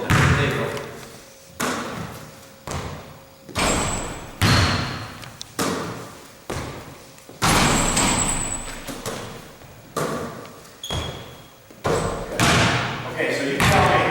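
A basketball being caught, shot and bouncing during a shooting drill, repeated sharp thumps and slams every second or so in a reverberant gym, with a voice talking at points.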